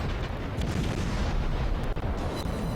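Cruiser gunfire in a World of Warships naval battle, with an Atlanta premium cruiser firing on a Cleveland, dense rolling booms and heavy rumbling salvos blending into one loud continuous barrage.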